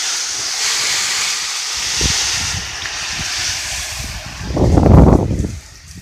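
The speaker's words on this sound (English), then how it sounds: "basically run the shower" Water runs steadily from a shower head inside a camper van, a continuous broad hiss that swells louder near the end with no talking.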